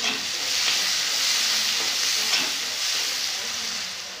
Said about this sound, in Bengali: তেল গরম হয়ে গেছে, কালো জিরা দিয়ে দিব ফোড়নে, কুচানো পেঁয়াজ দিয়ে দিব